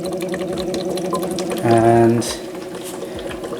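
An AquaTru reverse osmosis countertop water purifier starts up with a short burst of bubbling and gurgling water, rising over a low hum and fading after about half a second, while someone speaks around it.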